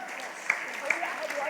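Audience applause at a fireside chat event, a brief, faint patter of clapping with a few sharper claps standing out.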